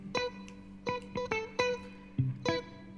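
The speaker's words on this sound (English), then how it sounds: "It's the blinker of the car." A car turn-signal blinker used as a sample in a mix, its ticks sitting inside a sparse, bright plucked melody, a handful of crisp hits spaced irregularly over three seconds, fairly quiet and without talk.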